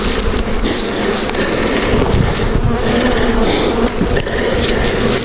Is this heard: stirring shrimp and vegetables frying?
no